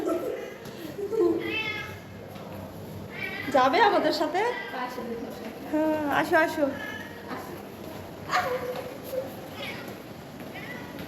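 A cat meows several times at close range, mixed in with people chatting and coaxing it during an outdoor walk.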